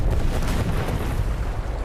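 A dynamite explosion in a film, a charge on a lighthouse detonated with the cable reconnected, comes across as a loud, sustained low rumbling blast with no voices over it.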